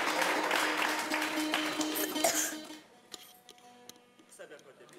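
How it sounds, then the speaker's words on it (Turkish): Audience applause during a live broadcast of saz playing, a dense burst of clapping that cuts off halfway, followed by scattered taps and a few isolated claps. "Alkışlayalım"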